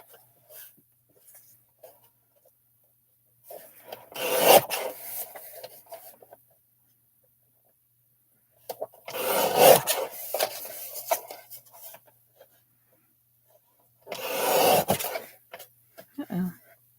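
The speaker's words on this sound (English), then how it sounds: "Just going to cut a tiny sliver off of here." A paper trimmer slices a thin sliver off a stamped card, giving three short scraping, rasping bursts spaced several seconds apart, with near silence between them.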